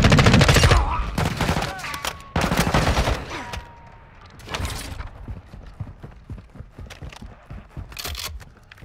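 Loud bursts of automatic gunfire in Call of Duty DMZ, with rapid volleys in close succession followed by sparser, quieter shots and mechanical rattles.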